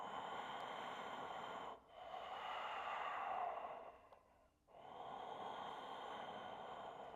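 Slow, controlled breaths in a yoga flow, long steady airy inhales and exhales close by, each held for a couple of seconds and separated by brief quiet pauses.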